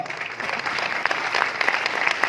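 A seminar audience claps in a steady, close burst of applause that holds at even strength throughout, with no voice over it.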